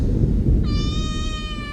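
A cat sheltering under the stairs during a storm lets out one long, wavering meow, close and loud, rising over a low rumbling rain-and-thunder background.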